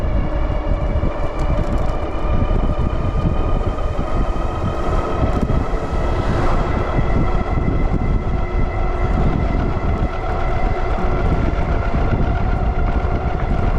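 A Wallke H9 AWD electric bike rides on pedal and throttle, giving a loud, steady motor whine with bright tonal harmonics over constant rushing wind and road noise, close to the microphone with no talking.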